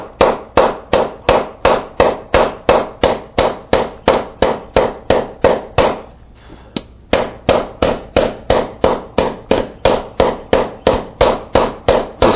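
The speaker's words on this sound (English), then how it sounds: "Keep hammering away." A hammer pounds hot iron against a wooden stump to forge a spoon, with loud, sharp, evenly spaced metallic blows in a fast steady rhythm and one brief pause midway.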